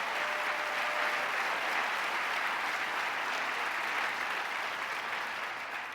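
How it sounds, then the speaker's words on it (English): Sustained applause from a large audience at the New York State of the State address honoring Speaker Carl Heastie, a dense steady roar of clapping that tapers slightly at the end. "Let's give him another round of applause"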